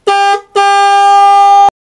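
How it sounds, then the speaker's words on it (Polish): A car horn mounted on a bicycle honks loud and close, one short blast followed by a brief gap and then a longer sustained tone that cuts off abruptly. "I patrzcie, jak trąbi."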